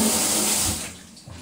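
Cold tap water runs hard into a kitchen sink, loud and close at first, then easing off and thinning toward the end, with no voices.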